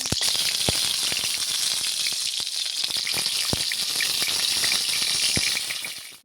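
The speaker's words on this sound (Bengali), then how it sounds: "এবার পটলগুলো আমি তেলের মধ্যে ছেড়ে দেবো।" Pieces of pointed gourd (potol) frying in hot oil in a pan, a loud close, continuous sizzle with crackling pops throughout, fading at the end, with no talking.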